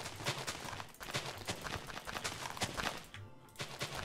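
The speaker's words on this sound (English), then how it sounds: "Now I bring this TNT across here, and all that's used for is to set off the next explosion" Rapid chain of TNT blocks detonating in Minecraft, a dense crackling barrage of blasts popping in quick succession, briefly thinning before erupting again, loud and close.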